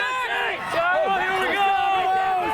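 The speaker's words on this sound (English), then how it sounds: "The crowd here is going wild." Spectators cheer and shout at a girls' cross-country championship race in New England, a loud continuous roar of many voices with excited yelling close by throughout.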